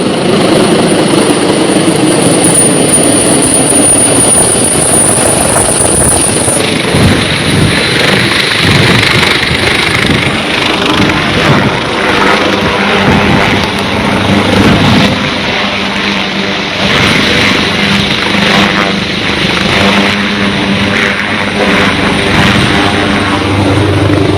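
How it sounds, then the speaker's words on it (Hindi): Helicopter landing at Sumerpur, Hamirpur, at an outdoor political rally: a loud, close rotor and engine roar with a steady thumping drone that shifts in pitch as the craft descends, continuous throughout. "ये आप देख पा रहे हैं हेलीकॉप्टर किस तरीके से यहाँ पर जो सुमेरपुर में लैंडिंग करने"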